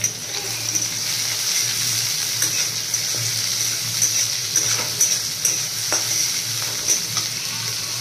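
Sliced onions fry gently over medium heat in a pan while a cabbage dish is prepared, giving a steady close sizzle with light stirring scrapes throughout and no talk.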